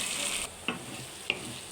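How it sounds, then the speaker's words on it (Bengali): Garlic paste and onion fry in a pan for jute leaf greens. A soft hiss is broken by two distinct spoon scrapes, with no talking. "এখন আমি 2 মিনিট ধরে নাড়তে থাকবো যেন রসুনের কাঁচা গন্ধটা বের হয়ে যায়"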